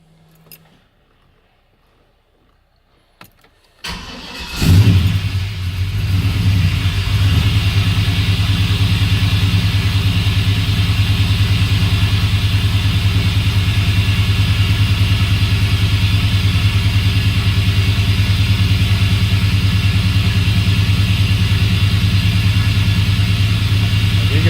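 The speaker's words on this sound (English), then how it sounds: "There is a suction noise, but not the annoying noise it had with the Holley Sniper throttle body" An LS-swapped OBS truck engine fitted with a new Nick Williams throttle body starts after a few seconds of quiet, then idles steadily and loudly with a constant deep hum and a slight intake suction hiss, with no voices.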